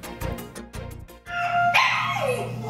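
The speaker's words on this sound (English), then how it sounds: "Little whimpers underneath the beats of a heart rate monitor" A 12-week-old puppy recovering from life-saving surgery whimpers and yips softly in short bursts, close by, with beeps from a heart rate monitor in the background.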